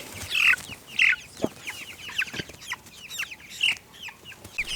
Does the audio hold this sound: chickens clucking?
yes